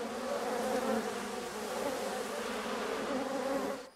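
Bees buzzing steadily and densely in a film scene, a continuous close insect drone that holds for the whole stretch before cutting off at the end.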